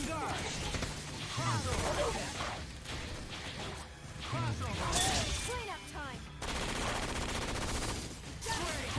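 Bursts of rapid gunfire and cannon blasts from a fast fighting video game, with whooshes and crashes in a dense, continuous mix under steady play sounds.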